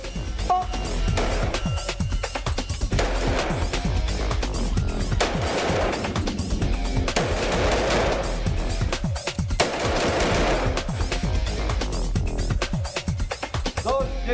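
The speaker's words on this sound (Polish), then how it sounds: "strzelań z wykorzystaniem pistoletów maszynowych na rzeczywiście te krótsze dystanse" Military training shooting with submachine guns at short range, dense rapid bursts and single shots firing continuously from several shooters, loud and close with no pauses.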